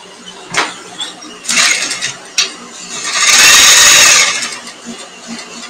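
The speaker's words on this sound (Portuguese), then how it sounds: "Antes de pregar, vou passar uma costura aqui, ó, na boca, né?" A sewing machine stitches along the opening of a mail-bag lining with a few short bursts, then a longer fast run. Close by, with light handling noise in between.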